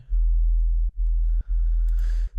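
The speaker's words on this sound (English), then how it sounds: "what we've got is a basic shape sine wave to start off with" A deep, smooth basic sine-wave synth sub-bass tone hums steadily, broken by two brief gaps, with no other sounds over it.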